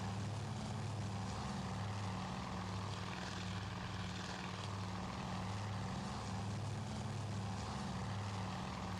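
Torpedo bomber aircraft engines in the naval video game Task Force Admiral, a steady, droning propeller hum with a low pulsing tone, continuous and moderately loud, with no talking.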